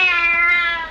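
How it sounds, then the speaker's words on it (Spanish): A single cat meows loudly and close, one sustained harmonic mew that fades slightly toward the end, heard alone without talk. "gatitos"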